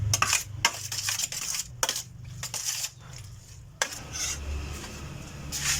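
Calamares batter being stirred in a bowl, with a utensil scraping and clinking against the sides in quick irregular strokes and a few sharper knocks, close and fairly loud, then a softer swishing stir.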